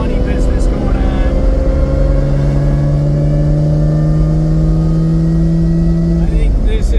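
A Lamborghini Miura SV engine pulling hard through the gears on a test drive, a loud, close, steadily rising drone that drops at a gear change near the end.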